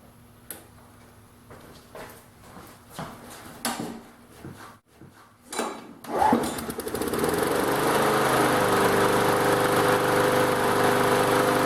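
A salvaged lawn mower's small engine is pulled over with several rattling tugs, then catches and settles into a steady, loud drone.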